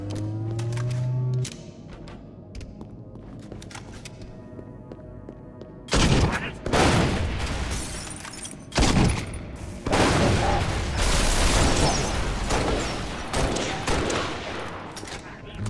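Gunfire in a shooter video game: a quiet start, then loud, dense volleys of shots and impacts from about six seconds onward, with game voice lines mixed in.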